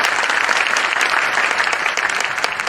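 An audience at a testimonial gathering breaks into loud, dense applause that runs steadily from start to finish.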